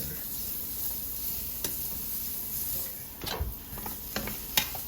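Sliced shallot goes into a hot skillet with browned steak fond, heat turned off, giving a soft steady sizzle with a few sharper crackles and pops near the end.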